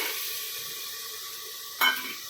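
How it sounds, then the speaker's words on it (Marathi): Black chickpeas tumble into masala already shimmering in oil, a soft steady sizzle giving way to a short, sharp hiss and spatter as they land, close and alone. "आता त्यामध्ये मी हे हरभरे टाकून घेते"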